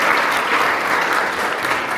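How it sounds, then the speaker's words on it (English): A benefit gala audience for Seeds of Knowledge claps together in a loud, even burst of applause filling the room throughout. "give yourself a big round of applause for being here"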